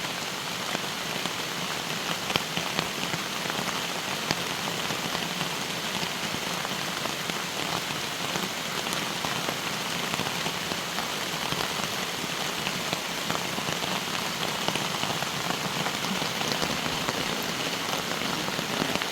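Steady, dense rain patters continuously on a taut tent surface close by while camping in Red River Gorge, a constant hiss of drops with no voices.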